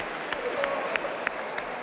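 Spectators at a basketball game applaud, a faint, fairly thin patter of clapping with a few sharper claps standing out, heard from a distance.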